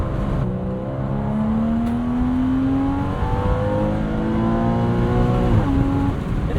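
A Porsche Boxster sports car engine drones loudly and climbs steadily in pitch as it revs higher and higher toward almost 8,000 RPM, heard from inside the car, with a brief dip near the end.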